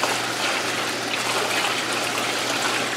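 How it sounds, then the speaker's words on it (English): Water from a bucket pours steadily into an aquaponics tank for tilapia, a loud, even rushing splash that holds for a few seconds without any voices. "I'm going to pour a little bit of the water in the system just so I can handle it and get it over."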